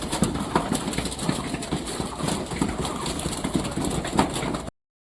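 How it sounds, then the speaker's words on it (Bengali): Pigeons flutter and feed in an outdoor loft area, a busy mix of wing flaps, scuffling and faint coos running steadily throughout at moderate, close range. "সব কবুতরগুলো উড়াউড়ি করতেছে, আমাকে দেখে ভয় পাচ্ছে হয়তো"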